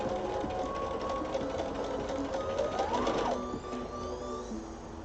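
Domestic sewing machine driven by a foot pedal, running steadily and fairly close for the whole stretch with a mechanical whir that shifts pitch as it speeds up and slows near the end; no talk over it.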